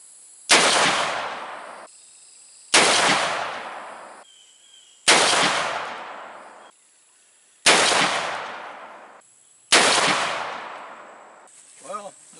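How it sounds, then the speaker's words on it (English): Five shots fired from a Colt Super Walker black-powder revolver, loaded since December, outdoors: each a loud sharp blast with a long echoing decay, evenly spaced about two seconds apart, followed by a faint voice at the end. "And now we're going to shoot the Colt Super Walker, which has been loaded up since December, and see how it does."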